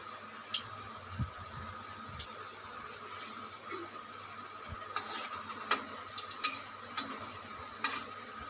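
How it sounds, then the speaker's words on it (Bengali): Luchi, puffed flatbread, frying in hot oil gives a steady low sizzle with occasional sharp clicks and pops, faint and steady throughout with no voices. "সব লুচিগুলো এরকম করে ভেজে নেব।"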